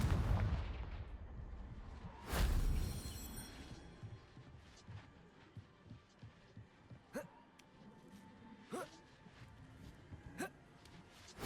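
A Confringo spell blast in the Hogwarts Legacy video game lands as a single sharp, booming burst, followed by softer thuds and a few crackling impacts trailing off.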